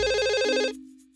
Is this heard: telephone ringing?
yes